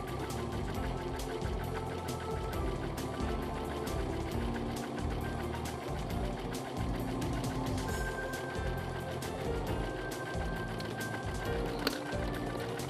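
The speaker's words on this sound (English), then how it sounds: "Serge end to end once more." An overlock serger machine runs continuously while stitching the edge of fabric for a decorative seam, a steady close mechanical whir with rapid needle ticking that continues without a break and is not accompanied by talk.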